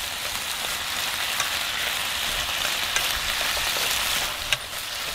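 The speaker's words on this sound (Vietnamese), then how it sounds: "Rồi mình để đó mình xào tới khi nào chín thôi nha" Okra stir-fried in a pan gives a steady, close sizzle with a few faint knocks of stirring throughout.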